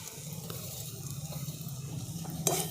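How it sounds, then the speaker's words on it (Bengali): Boiled potatoes with chopped coriander leaves being stirred together in a pan for a potato kachori filling, a soft steady scraping and mixing with a low sizzle underneath and a sharper clink near the end. "সব একসঙ্গে ভালো করে মিশিয়ে নিচ্ছি"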